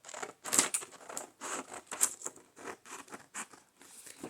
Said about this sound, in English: I can just cut around this side